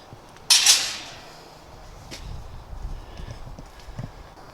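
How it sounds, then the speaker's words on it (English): A horse walks on a rural path, its hooves clip-clopping faintly and irregularly in the distance after a sharp nearby rustle at the start. "A horse in the distance."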